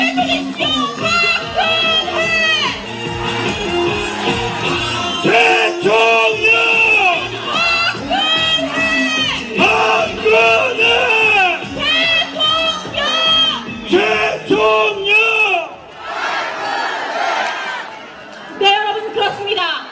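A large outdoor crowd at a Park Geun-hye presidential campaign rally in Busan cheers and shouts loudly and continuously, with whoops rising and falling throughout.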